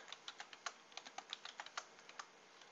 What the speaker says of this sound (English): So don't forget to type in login. Hit enter.